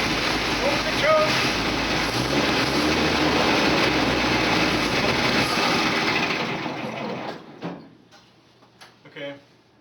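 A 1952 Dodge M37 army truck engine runs with a dense, steady rumble and clatter, then is shut off and dies away, leaving quiet with brief talk and handling sounds.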